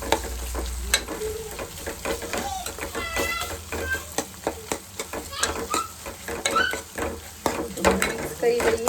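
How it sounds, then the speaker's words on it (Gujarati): Spiced teasel gourd curry stirred in a pan, with repeated scraping strokes over a low sizzle, plus background voices and scattered clatter. "હવે આપણે સરસ રીતના બધું મિક્સ કરી લઈશું."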